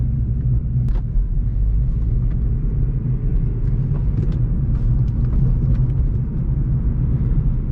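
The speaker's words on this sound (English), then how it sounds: "we're setting off here in my 2010 Civic LX Sport with a 5-speed manual" A 2010 Honda Civic LX Sport with a 5-speed manual drives along, its loud, steady low rumble of engine and road noise filling the cabin with a few faint clicks over it.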